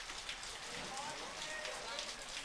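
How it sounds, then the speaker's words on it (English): Steady rain pattering down on an outdoor pool during a college water polo game, a dense even hiss of drops with a few faint voices or whistles in the distance. "You hear the rain coming down, but Molina"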